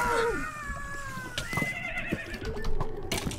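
Skeleton horse in Minecraft whinnying in a descending, strained call, followed by several clipped game sound effects and a brief second neigh, fairly loud and close with no talking.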